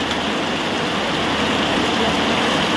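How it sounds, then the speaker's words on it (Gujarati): Heavy monsoon downpour in a Botad village field, a dense, steady roar of rain hitting the ground and foliage, loud and continuous throughout with no voices. "ધોધમાર વરસાદ ચાલુ થઈ ગયો છે."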